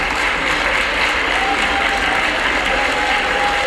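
Applause in the US House chamber during a Speaker of the House vote, a dense, steady roar of many hands heard from a distance, continuous and even with no breaks.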